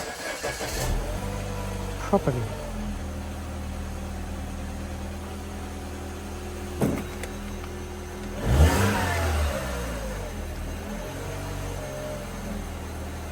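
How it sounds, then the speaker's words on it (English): A 2009 Mini Cooper R56 engine cranks and catches after an alternator belt replacement, then idles steadily with a couple of louder revs, close by, as a voice speaks briefly. "Time to start the car and just make sure everything is running"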